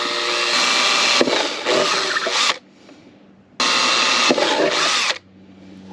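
A power drill bores through plastic with a drill bit, two loud, close bursts of whining, grinding drilling of about two seconds each, separated by a quiet pause, with no talking.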